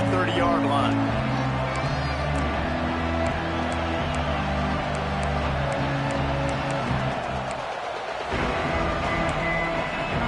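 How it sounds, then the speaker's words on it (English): A college football stadium crowd at Nebraska versus OSU roars and murmurs in a broad, steady wash, with an announcer talking over it throughout. "Crowd trying to make life miserable for this offense."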